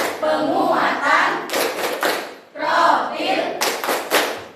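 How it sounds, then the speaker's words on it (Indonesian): Scout-style rhythmic group clapping by a school gathering, bursts of sharp patterned claps alternating with loud chanted group voices, close and full, repeating in two cycles. "Bisa kita mulai dengan bertepuk seperti tepuk pramuka."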